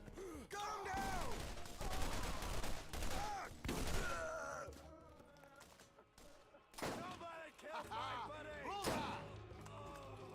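Gunfire from a Borderlands firefight, bursts of shots and impacts scattered through a busy game mix, with voices and music-like tones layered over it.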